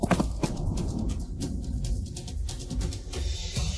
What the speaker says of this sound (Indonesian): Saudara Huang, Saudara Huang, pegang tali kudanya kencang, tekan perut kuda, ayo.